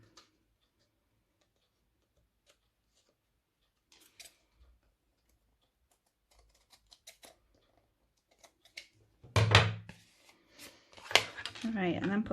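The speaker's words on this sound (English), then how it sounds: "I'm just going to trim that back slightly. And then trim the bottom bit." Scissors trimming paper for a handmade mini book, a few faint snips spread out and then louder cuts near the end, with quiet speech around them.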